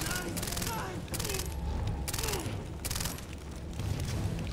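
Rifle fire in the shooter game Far Cry 3 rattles in rapid, overlapping bursts with dense game noise behind it, loud and close for the whole stretch.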